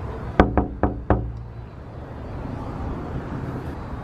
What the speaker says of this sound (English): Did you bang on the door?